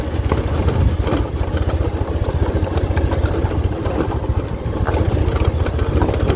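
A motorcycle engine runs steadily through a valley where elephant herds live, a loud close continuous low rumble with a throbbing pulse and no speech.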